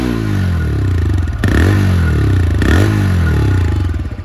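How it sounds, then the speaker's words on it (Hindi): A TVS Raider 125 motorcycle idles close by with a loud, throbbing exhaust note, then is revved sharply twice, each blip rising and falling back to a steady idle. "इस बाइक का जो एग्जॉस्ट है ना उसका साउंड बहुत ही मस्त है।"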